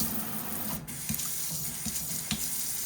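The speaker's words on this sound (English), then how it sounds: "Pull it out, look at that. Simple. Change your sprayer." Water runs steadily from a Moen single-handle pull-down kitchen faucet sprayer into a sink, a close, even spray with a few faint clicks and knocks over it.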